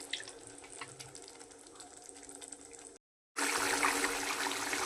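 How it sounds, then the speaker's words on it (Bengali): Water runs steadily into a pot of rice and lentils, a moderate close pour that stops briefly and then resumes louder and fuller, with no talking. "সামান্য পরিমাণে একটু জল দিয়ে দিলাম, যেহেতু কষানো হয়ে গেছে আমার"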